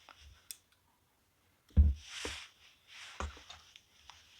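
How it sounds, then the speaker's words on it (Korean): Scissors snip yarn during crochet work on a small snake amigurumi doll, giving a few sharp, close clicks and soft rustles spaced across a quiet background, with no talking. "나와 있는 실은 잘라주세요"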